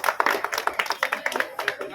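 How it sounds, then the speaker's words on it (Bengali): A small group claps hands in quick, uneven bursts at a tree-planting inauguration for a school project, close and moderately loud, with voices murmuring underneath. "হাততালি দাও"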